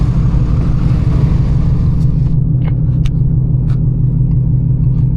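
A supercharged 900 hp Ford Mustang GT S650 with a Whipple blower, small pulley, long-tube headers and dumps idles nearby with a loud, steady, deep throbbing rumble, a few faint higher ticks above it.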